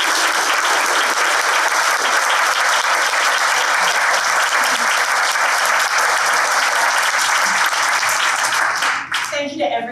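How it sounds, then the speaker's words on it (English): Sustained, loud audience applause for panelists and a moderator at a women in nonprofit leadership event, steady for nearly ten seconds before tapering with a brief noise at the end. "can we give them a round of applause?"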